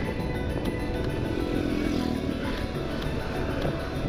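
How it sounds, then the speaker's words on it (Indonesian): Steady motorcycle engine drone with heavy wind rush while riding along roads near Prambanan and Kalasan, continuous and close throughout, with no speech. "karena saya naik motor"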